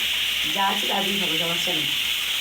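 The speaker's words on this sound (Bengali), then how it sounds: "আমার মাছ ভাজা হয়ে গেছে" Fish frying in a pan in a home kitchen, a steady bright sizzle throughout, with a voice briefly speaking over it.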